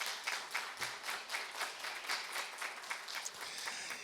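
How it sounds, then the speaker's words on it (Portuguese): Applause rings out in a city council session as people clap for two students from a state school, a steady dense patter of many hands, moderately distant and continuous, with no voices on top. "Queria pedir uma salva de palmas"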